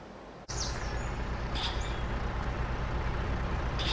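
A large 360 excavator works in Farming Simulator 22 with a loud, steady diesel engine drone that starts abruptly, overlaid by occasional short high hydraulic hisses and squeaks.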